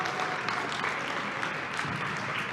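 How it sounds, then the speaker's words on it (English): Audience members at a roundtable event applaud together in a dense, steady wash of clapping that lasts a few seconds. "Give yourself an applause."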